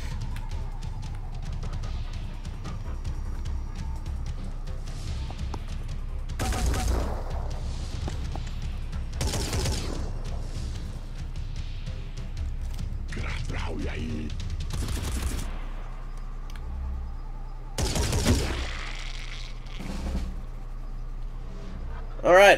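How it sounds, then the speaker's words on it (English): Assault cannon fire in the tactical video game Phoenix Point, several heavy, loud booming bursts spaced through a steady background of game ambience and rumble, with a person talking over it. "Fucking assault cannon right into the middle of his chest."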